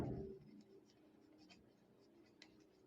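Pen writing by hand on paper while working a trigonometry problem, soft scratching strokes with a few sharper ticks, faint and close, after a brief low voice at the start.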